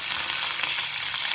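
Cumin seeds, curry leaves and green chillies crackle and sizzle in hot oil for a tomato and broad bean seed curry, a steady close hiss throughout with no talking.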